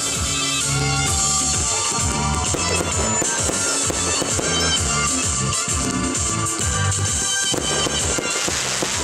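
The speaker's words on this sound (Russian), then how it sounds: "Пушки с пристани палят." Cannons fire from a harbour pier to salute an arriving royal fleet in a fairy-tale scene, loud booming blasts and crackling bursts layered over dense, continuous orchestral music.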